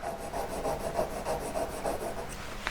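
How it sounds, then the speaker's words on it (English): A graver-shaped drill is sharpened on an oil stone with quick, even back-and-forth rasping strokes, close and fairly quiet, repeating at a steady rhythm. "This is a wet stone, oil stone. I'm just sharpening it."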